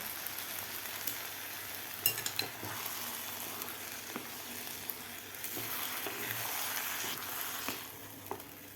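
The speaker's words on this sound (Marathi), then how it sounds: "आपल्याला हे व्यवस्थित मिक्स करून घ्यायचं आहे" Bajra khichdi is stirred in a hot pan, producing a continuous soft sizzle broken by scattered scrapes and taps of the spoon, close by and fairly quiet.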